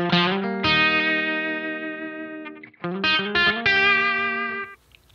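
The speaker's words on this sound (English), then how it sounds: "I've got a slap tape echo going, pretty short one." An electric guitar through an Atomic Ampli-firebox Mark II amp modeler with a short slap tape echo rings out sustained distorted chords, a long held one then a few shorter stabs, each trailed by a quick echo.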